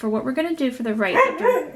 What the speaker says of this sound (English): excuse my dog, it's being naughty.